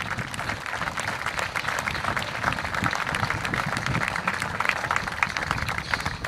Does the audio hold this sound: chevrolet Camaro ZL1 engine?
no